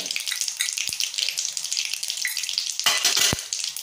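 Mustard seeds, cumin and asafoetida sizzle in hot oil for a dal tempering, a steady close crackle with sharp pops and a brief rattle of stirring, and no voices.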